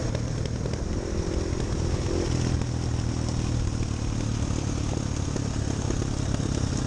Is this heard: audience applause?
no